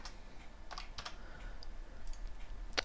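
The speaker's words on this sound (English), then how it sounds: "So we're just going to type read." Computer keyboard typing, a few quick isolated keystrokes and clicks spread over a couple of seconds, close and faint, with no voice.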